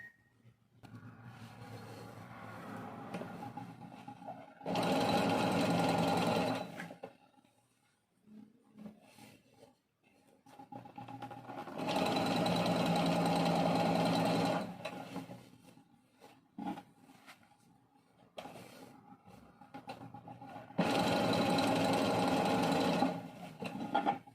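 A sewing machine stitches the cuff seam of a dress about 0.5 mm from the folded edge, running in three loud bursts of a few seconds each with quiet handling pauses between them.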